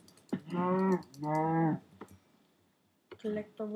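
Cows in a survival video game give two long, drawn-out moos in close succession, then a shorter third moo after a quiet gap; the calls are fairly loud and close.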